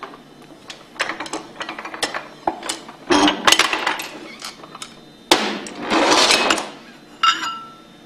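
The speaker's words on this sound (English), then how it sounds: "we can use that to remove the shaft and rotor assembly" Metal parts clinking and knocking while the shaft and rotor assembly is worked out of a Hypro roller pump, a series of sharp taps and clanks, some in quick clusters, with brief scraping between.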